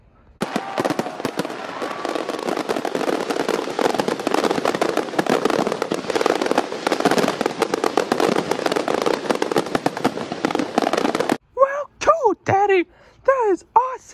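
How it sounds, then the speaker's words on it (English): Fourth of July fireworks burst overhead in a dense, continuous barrage of crackles and pops for most of the stretch. Voices then talk near the end as the explosions stop. "So, are you enjoying those fireworks?"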